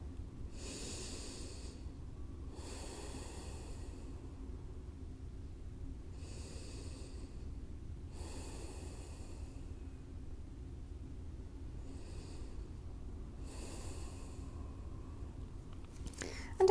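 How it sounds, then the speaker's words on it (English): Gentle breaths taken in and out while lying in a restorative yoga pose, soft airy inhales and exhales repeating every couple of seconds, close and quiet with no talking. "Take a few gentle breaths in and out."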